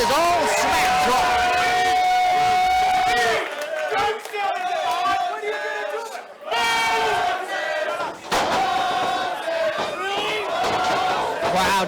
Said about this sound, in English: Crowd chanting Moses as the action picks back up again.